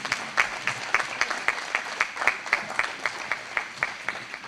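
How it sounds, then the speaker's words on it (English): A Hall of Fame induction ceremony crowd claps for the inductees, a sparse room of applause with distinct individual claps in a loose, regular rhythm, moderately close and somewhat faint. "Let's give another round of applause to all tonight's inductees."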